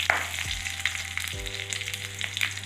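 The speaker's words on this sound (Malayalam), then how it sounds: "കടുക് പൊട്ടി കഴിഞ്ഞ് നമുക്ക് മുളകിട്ട് കൊടുക്കാം" Chillies and mustard seeds sizzle and crackle in hot coconut oil for a sweet banana pachadi. Brisk frying hiss with scattered pops sounds close, over a low steady hum, and no one talks.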